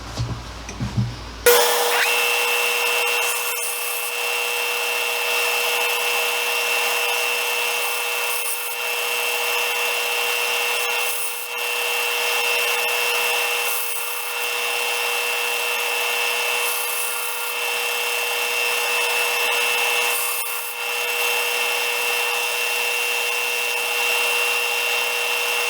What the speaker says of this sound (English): Now I'm going to cut 1/4 inch slices.